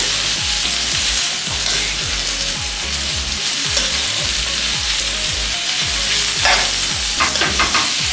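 Beans stir-frying in a pan give a loud, close, constant sizzle, with rhythmic spatula strokes scraping through it and a few brighter crackles near the end.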